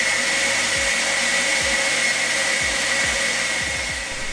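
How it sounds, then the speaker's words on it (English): An EGO Power+ 530 CFM battery leaf blower runs on its lowest setting, giving a steady, close, loud airy whoosh with a faint high whine and a few soft low bumps underneath, and no talking. "I was struck by how quiet the Ego blower was, at least on its lowest setting"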